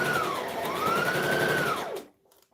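A sewing machine stitches a garment in a steady, loud mechanical whir whose pitch rises and eases as the speed changes, then cuts off abruptly and leaves a faint hum.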